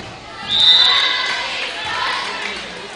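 A volleyball team and its supporters cheer after an ace serve in a high-school JV match, a burst of shouts rising in a reverberant gym and easing off while a commentator talks over it.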